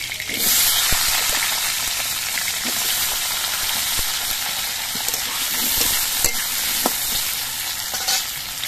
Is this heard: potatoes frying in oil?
yes